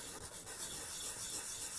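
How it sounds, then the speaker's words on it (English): A metal gear is sanded by hand with 400 grit sandpaper, a soft continuous rubbing that runs evenly from start to end. "I take a piece of sandpaper, it's a 400 grit"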